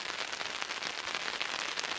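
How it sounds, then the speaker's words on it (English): Steady rain patters on an umbrella on a mesa trail near Redford, Texas, a close, dense hiss that holds at an even level throughout with no talking. "it's shielding me from a little bit of this rain"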